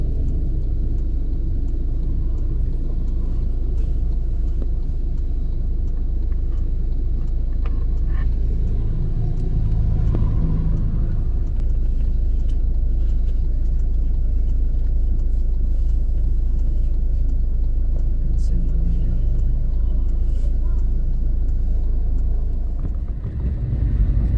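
A motorized tricycle labors up a rough, slippery mountain road at night, its engine droning in a loud, steady rumble that holds for the whole stretch with little change in pitch.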